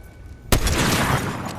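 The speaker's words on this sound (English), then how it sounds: "someone else is shooting" Gunfire from another player in Fortnite, a sudden loud shot followed by a sustained stretch of rapid, dense firing and rumble, close and dominant after a quieter start.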